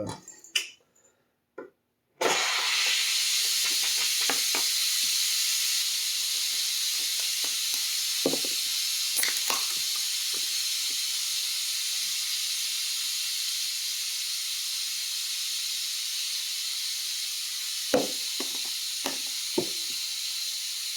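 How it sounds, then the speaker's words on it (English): Steam venting from a multi-cooker on its pressure cooker function while making chili: a loud, steady hiss that starts abruptly after a couple of small knocks and runs on continuously, with a few faint clicks near the end. "since we use the pressure cooker function on this multi-cooker thing, right? We had to release the steam"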